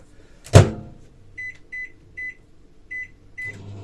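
A microwave oven defrosting frozen minced meat: one loud thump or door knock, then a low steady hum with a run of short electronic beeps, five in all, spaced about half a second apart.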